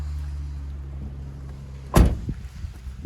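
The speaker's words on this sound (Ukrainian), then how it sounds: "Дверки дуже круто закриваються, нічого не гупає, не стукає" A 2011 Renault Trafic passenger van with a 2.0 engine has its door shut in a single solid thump near the two-second mark, over a low idling hum, followed by faint rattles.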